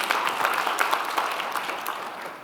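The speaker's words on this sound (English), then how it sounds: "This is Amazon's 10th year doing accessibility. That's worth some applause, yes." Audience applause at an accessibility keynote address, a dense, even patter of many hands clapping throughout, fairly loud and continuous with no voices on top.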